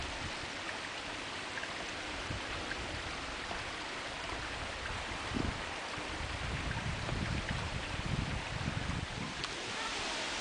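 Water in a stream runs downhill through a St. Louis County park toward the Mississippi, a continuous broadband rushing and gurgling with some wind buffeting the microphone, steady throughout.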